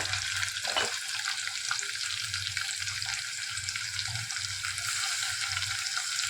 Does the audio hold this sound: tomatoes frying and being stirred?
yes